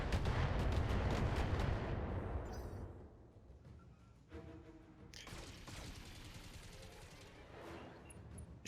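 Machine gun fire in the video game Thorium Mercs: a loud, heavy burst of rapid shots that fades away, followed by scattered quieter bursts and mechanical clatter.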